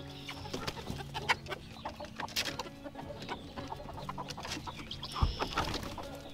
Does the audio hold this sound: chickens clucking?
yes